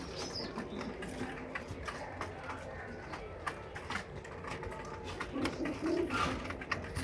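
Soft, low pigeon cooing murmurs in the background amid faint rustling and scattered clicks.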